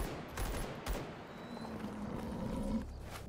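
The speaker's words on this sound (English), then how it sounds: "so he's shooting at the flesh, and he's missing every shot" Gunfire in the video game S.T.A.L.K.E.R. GAMMA, a continuous burst of automatic shots at a boar-like mutant, rapid and fairly loud, with a dense rattling texture and no talking.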